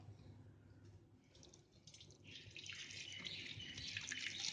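Whey from curdled milk trickles and splashes into a pot through muslin cloth, quiet at first and growing steadier and louder as more pours through.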